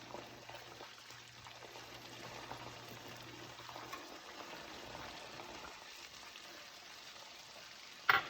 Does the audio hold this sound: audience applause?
no